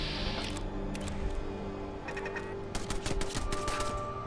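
Turret gunfire in Fallout London, a rapid clatter of sharp shots in short bursts, moderately loud over a low steady game background hum, with no talk.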